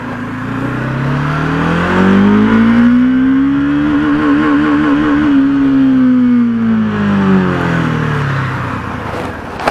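A Bajaj Dominar 400 motorcycle accelerates hard in first gear, its engine note climbing steadily in pitch over several seconds, holding near the top, then easing back down. The exhaust sounds loud and close, with no talking.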